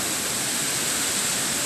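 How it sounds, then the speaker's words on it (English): Water spills over the top of a dam in rural Indiana on a foggy early morning, a dense, steady rushing hiss with no pauses or voices. "That's the water rolling over the top of the dam."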